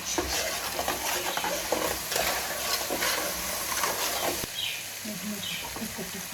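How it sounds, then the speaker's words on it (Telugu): Ginger garlic paste fries in hot oil for an Andhra fish curry, giving a steady close sizzle with occasional stirring scrapes and a few faint bird chirps near the end. "అల్లం వెల్లుల్లి పేస్ట్ కూడా కొంచెం పచ్చివాసన వెళ్ళే వరకు వేయించుకోవాలండి"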